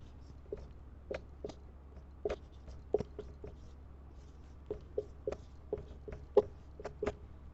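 Pen scratching on paper while someone writes Sanskrit exercise answers, a run of short, dry strokes and taps spaced irregularly over a quiet background, close and fairly faint, with no talking.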